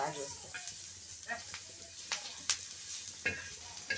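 Chillies sizzle in hot oil for a drumstick (shevga) vegetable dish, with a steady low fry and scattered sharp pops and spits, fairly faint.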